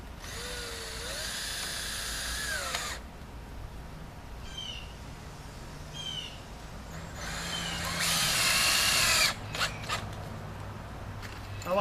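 Power drill drives construction screws into wooden boards of a compost bin, whirring in several bursts of rising and falling pitch, with the longest, loudest run near the end.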